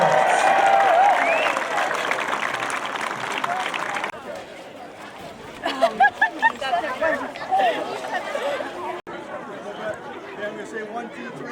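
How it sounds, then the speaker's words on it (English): Outdoor crowd applauding and cheering at a cardboard boat race, a steady wash of clapping in the first seconds that thins into chatter, with scattered claps and cries near the end. "Give them a rousing round of applause."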